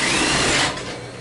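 A sewing machine runs fast along the side seam of a lined bikini where the strap attaches, a loud close mechanical whir that cuts out partway through and leaves a fainter hum.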